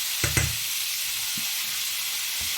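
Veal pieces for a tajine sizzle steadily in a frying pan, a continuous hiss with a few soft utensil knocks as the meat is spread out, close and alone.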